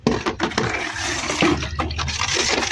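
Water poured over someone being bathed on a rooftop, a steady splashing rush with a few brief gurgles and drips, close and fairly loud.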